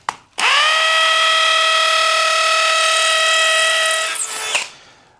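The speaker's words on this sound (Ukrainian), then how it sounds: "берете ударний режим, вмикаєте і вибирайте максимальну швидкість" A hammer drill set to impact mode at maximum speed bores into a brick wall with a special masonry bit, a loud steady high-pitched whine running about four seconds before spinning down, with no talking.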